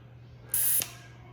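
A Coravin wine preserver releases a short, sharp hiss of argon gas through its hollow needle, one burst of about a quarter second, close and loud against a quiet room.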